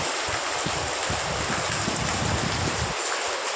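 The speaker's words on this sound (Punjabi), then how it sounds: "ਦੇਖੋ ਜੀ ਲਾਈਵ ਤੁਸੀਂ ਬਰਸਾਤ ਦੇਖ ਸਕਦੇ ਹੋ ਤੇਜ਼ ਹਵਾ ਦੇ ਨਾਲ ਤੇਜ਼ ਛਾਟੇਦਾਰ ਮੀਂਹ" Heavy monsoon rain driven by strong wind at night in Mansa district, Punjab: a dense, steady roar of downpour and gusts, close and constant, with no voices.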